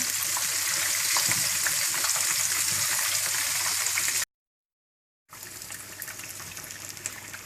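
Lahori-style fish frying in hot oil, a loud, dense, continuous sizzle that cuts to a second of silence and then resumes slightly quieter.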